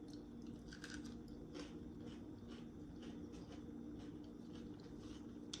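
Crunchy green beans are bitten and chewed close to the mouth, a faint, steady run of small crisp crunches with no talking.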